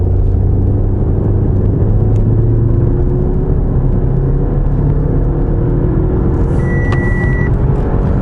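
Audi A4 B8 sedan pulling away hard in sport mode, a steady low engine drone and road rumble building continuously from inside the cabin, with a short electronic beep near the end.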